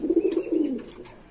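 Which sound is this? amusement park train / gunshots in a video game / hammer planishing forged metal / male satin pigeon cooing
male satin pigeon cooing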